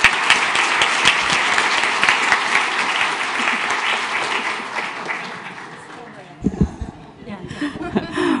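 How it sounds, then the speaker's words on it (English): Audience applause at the opening of a community event, loud sustained clapping with some chuckling that fades out, followed by a few thumps and a voice. "Please give her a warm round of applause."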